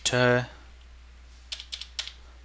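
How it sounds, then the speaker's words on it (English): A few quick keystrokes on a computer keyboard, clustered in short bursts near the end after a brief voice, close and fairly quiet. "then we type in"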